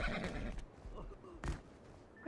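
A horse in the survival game Rust lets out a short whinny that rises and falls, with hoof clatter and other brief game sounds around it.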